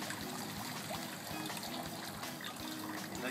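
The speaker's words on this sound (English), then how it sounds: "we're just going to pour the pond water right through the screen" Pond water pouring through a screen for harvesting microalgae, a steady close trickling and splashing stream that runs continuously, with no talk.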